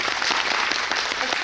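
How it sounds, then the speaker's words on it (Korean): A cinema audience at a post-screening guest visit claps together, a dense burst of applause filling the room from start to end, fairly loud and continuous. "박수 한번"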